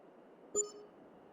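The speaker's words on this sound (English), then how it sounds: "Ding. That's the sound of money coming out of my account." A single short chime dings in Farming Simulator 22 as in-game money is spent, a quick bright tone over a faint low background hum.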